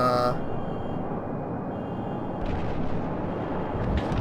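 Heavy battleship guns fire in World of Warships, with a deep rumbling boom and a rolling low roar, then a second burst of blasts later on, all fairly distant and muffled.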